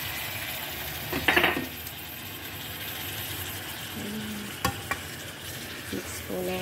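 Chicken adobo pieces stirred and frying in a pan, with a steady low sizzle, a few utensil scrapes and clinks against the pan, and one brief louder stir burst.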